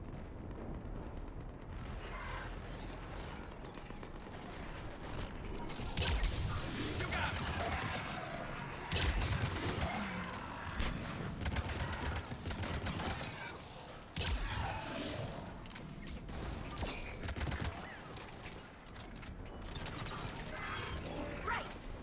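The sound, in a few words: artillery fire in Mass Effect video game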